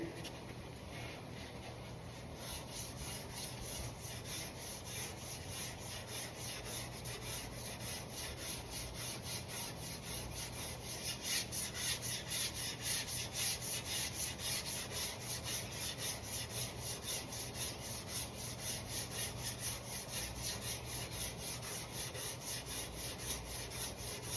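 A PVC block rubbing over a car body panel at the flaring wheel arch during paint prep, giving steady, continuous close scraping strokes that grow slightly louder partway through, with no talking.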